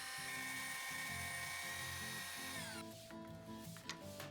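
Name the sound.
power drill drilling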